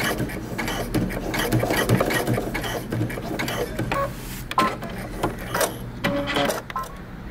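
A sewing machine top stitches through all thicknesses of jeans at the crotch, giving rapid mechanical stitching bursts that start and pause, close and fairly loud, with brief clicks between runs.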